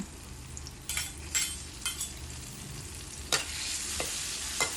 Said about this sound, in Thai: เอาพริกกระเทียมลงไปผัดให้หอม